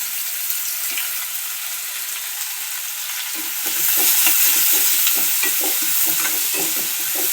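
Onions roast in a pan under a steady hiss of sizzling oil, then a spatula starts stirring partway through, adding rhythmic scraping strokes over the louder frying.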